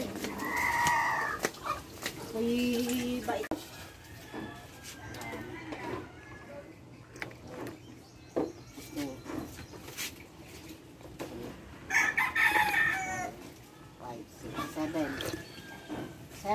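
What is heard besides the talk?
chickens clucking and rooster crowing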